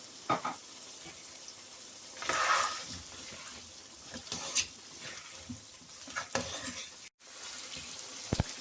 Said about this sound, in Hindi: अब हम आलू डाल के 5 से 7 मिनट तक भुनाई करेंगे।